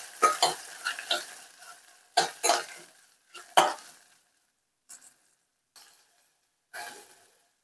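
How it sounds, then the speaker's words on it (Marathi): Val beans and onion stirred in a pan, several scraping stirs in bursts with faint sizzling between and quiet pauses, close by and without speech. "ह्यामध्ये आपल्याला वाल जे आहेत ते घालून घ्यायचे आहेत आणि ते देखील छान परतून घ्यायचे आहेत"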